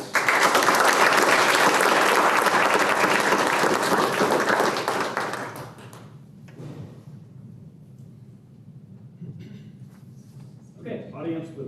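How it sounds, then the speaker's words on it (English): An audience at a regular school board meeting gives a round of applause, loud and full for about six seconds, then dying away to quiet room sound and brief talk. "And just one more round of applause for"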